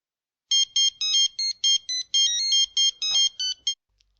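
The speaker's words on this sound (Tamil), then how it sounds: "அப்பா, டயல் பண்ணிட்டேப்பா." A telephone ringtone after dialing, heard as a rapid series of about a dozen short electronic trilling bursts in quick rhythm, fairly loud and clear, with a faint thump near the end and no talk.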